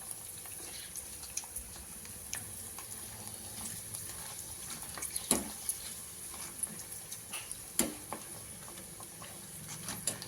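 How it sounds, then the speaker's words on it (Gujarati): Corn poha flakes frying in hot oil for chevdo give a faint, steady sizzle, with occasional soft clinks and scrapes of stirring and no talk. "મકાઈના જે પૌવા લીધા છે એને આપણે તળી લઈશું."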